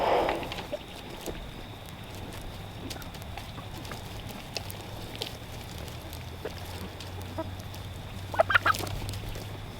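Farm chickens clucking quietly in the background across a steady outdoor ambience, with a brief louder cluster of clucks near the end.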